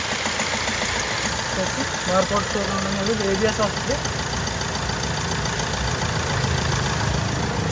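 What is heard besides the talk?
car engine idling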